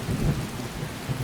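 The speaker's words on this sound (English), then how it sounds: "I'm going to wait for this storm to pass." Thunderstorm in the Skyrim video game, with steady rainfall and low rolling thunder rumbling throughout, loud and continuous with no talking.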